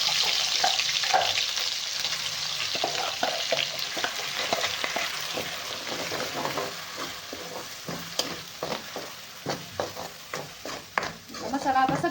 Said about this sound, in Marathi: आपल्याला हे मसाला आणखी थोडासा भाजायचा आहे